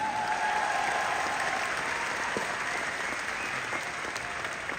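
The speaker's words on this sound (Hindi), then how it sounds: "ये आत्मा से, दिल से ताली मार रहे हैं" Sustained applause from a large audience at a Delhi event honouring actor Anupam Kher, a steady dense wash of clapping throughout with no speech over it.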